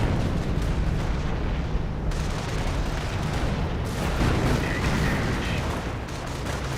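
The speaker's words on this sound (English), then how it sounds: "Grenades been thrown." Grenade explosions in the strategy game Company of Heroes: a loud, churning battle din with several sharp blasts bursting out of the rumble, close and heavy. No one speaks.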